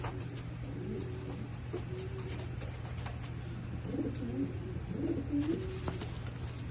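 A pigeon coos softly in a breeding loft, several low rolling coos in the second half over a steady hum, with a person close by.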